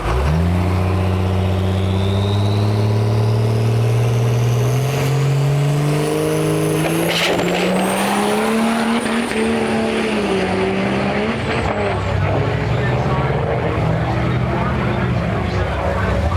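A 1957 Ford F100 with a common-rail Cummins diesel makes a drag racing pass, a loud, sustained engine roar climbing through the gears with rising pitch, then fading into a broad, rushing drone as it pulls away down the strip.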